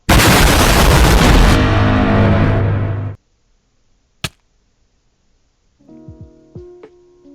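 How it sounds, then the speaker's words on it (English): A Minecraft weapons-mod orbital laser strike hits with a loud, close, roaring blast lasting about three seconds and cutting off abruptly, followed after a pause by a sharp single crack and then softer ringing, chiming game effects. "we have the orbital laser strike"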